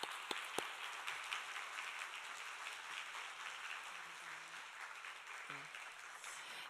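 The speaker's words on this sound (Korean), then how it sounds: "나오실 때 박수로 환영합니다." A church congregation claps steadily to welcome a guest speaker at a special early-morning prayer service. The applause is soft and fairly distant, with a few faint voices underneath.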